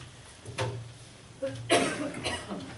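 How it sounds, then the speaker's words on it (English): A couple of short, husky coughs at close range, separated by a pause, with a quiet room in between, during a city commission meeting. "I thought I was through with the coughing"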